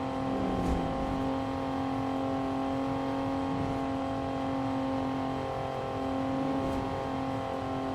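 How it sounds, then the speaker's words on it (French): Car engine in the game Pursuit Force holding a loud, steady high-revving drone with a sustained whine, near and continuous without speech. "Elle roule pas assez vite cette voiture"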